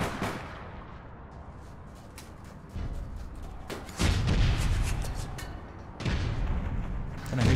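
Gunfire aimed at the player in the shooter APB Reloaded: a dense, rumbling stretch of booming shots that grows louder in bursts partway through and again near the end, with no talk.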